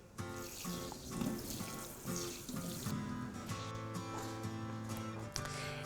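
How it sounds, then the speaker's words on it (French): Tap water runs into a kitchen sink to dampen a clean kitchen towel while making mango and foie gras spring rolls, a steady splashing stream with clattering and dish sounds, close by and fairly quiet, with no talking. "Je prends un torchon bien propre que je vais humidifier."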